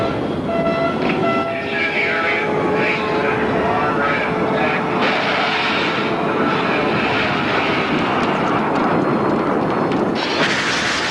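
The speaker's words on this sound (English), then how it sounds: "Hundreds of fighter jets and bombers take part in an all-out effort to destroy NATO's air force" Massed jet aircraft of a Soviet airstrike roar continuously, a dense, loud rumble with rising engine whines and steady broadband noise throughout, no talking.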